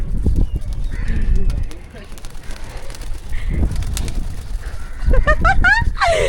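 A pigeon cooing nearby with soft throaty calls, mixed with thumping movement and loud talking voices around it.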